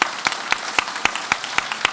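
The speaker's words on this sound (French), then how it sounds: "Et on applaudit. Bravo." Applause at a town council installation meeting gives a steady wash of many hands clapping, with a few louder individual claps standing out at an even, regular beat.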